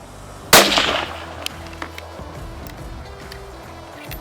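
A single loud, sharp crack from a Merkel K5 rifle firing factory ammunition outdoors, with a short decaying echo afterward followed by quiet ambient background.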